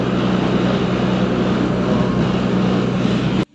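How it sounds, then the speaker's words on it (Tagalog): A blower running on a cruise ship during housekeeping drying, a steady loud broadband roar with a low hum, holding constant for several seconds before cutting off abruptly. "Blower drying."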